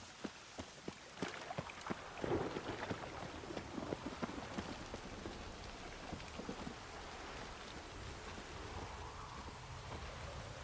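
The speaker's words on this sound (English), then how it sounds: "Let it rain." Steady rain from The Witcher 3: Wild Hunt pours down continuously with a few rumbles of thunder near the start, heard on its own with no voices.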